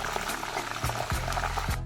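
About a litre of fresh mill-pressed coconut oil heats in a pan, bubbling and crackling softly and steadily, with a few louder pops near the end.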